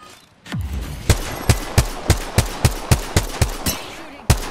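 Rapid gunfire in a shooter video game, a loud opening blast followed by a steady series of about a dozen sharp, evenly spaced shots, close and punchy.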